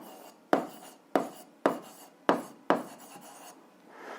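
Pen scratching across paper in short strokes, five or six scribbles in quick succession, close and fairly quiet.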